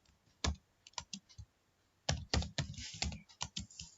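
Typing on a computer keyboard while entering a name into a program, with short bursts of close, sharp key clicks separated by brief pauses, quiet room behind it.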